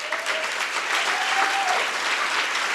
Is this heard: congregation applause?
yes